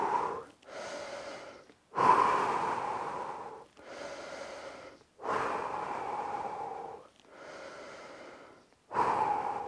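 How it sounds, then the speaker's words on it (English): Heavy, rhythmic breathing during an at-home fat-loss workout, six loud close breaths in and out with short pauses between, no talking. "So let's keep breathing."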